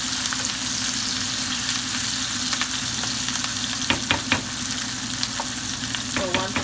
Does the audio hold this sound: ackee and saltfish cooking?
yes